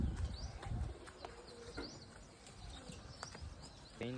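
Domestic pigeons coo in a village yard, with soft repeated calls, scattered chirps and a brief flutter of wings, fairly close and with no voices.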